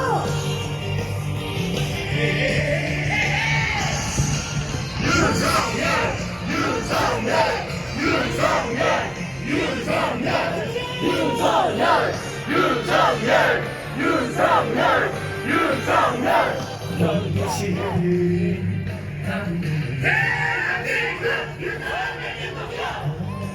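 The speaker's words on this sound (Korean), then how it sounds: "우리 윤석열을 외치면서" Large rally crowd at Dongdaegu Station in Daegu chanting and cheering the name of President Yoon Suk-yeol, loud rhythmic collective yells filling the clip with steady crowd roar throughout.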